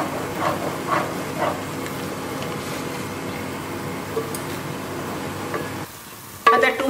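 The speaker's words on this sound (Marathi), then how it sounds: "आता न्हू हो एटलिस्ट 2 मिनिट्स आमी हो मसालो भाजूंक जाय." Kashmiri chilli masala sizzles and fries steadily in a pan for Goan pork sorpotel, with stirring scrapes over a continuous hiss, then a short quieter gap before the frying noise rises again.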